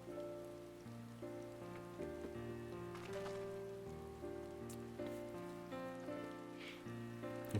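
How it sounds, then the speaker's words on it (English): Steady rain pattering in the Final Fantasy XIV video game, a soft continuous hiss beneath prominent sustained game music that plays throughout. "Let's get out of this rain."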